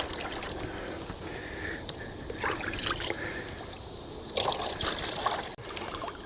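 Syrup water trickles and splashes as it is poured into a bee feeder outdoors, a steady liquid dribble with a few louder gushes over faint background noise.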